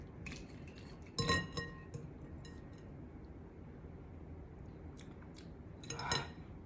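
A marinade of soy sauce, fish sauce, sugar and cornstarch is stirred in a bowl for pork chops, giving a few clear clinks of a utensil against the bowl, louder near the start and again at the end, with no voices.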